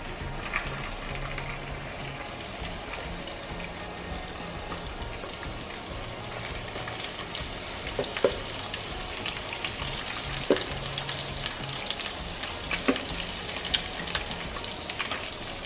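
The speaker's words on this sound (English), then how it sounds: "So we're going to start dropping the shrimp right now." Shrimp sizzling as they sauté in a pan with garlic, a steady, dense crackle like light rain that runs unbroken throughout, with a few sharper pops and taps standing out near the end.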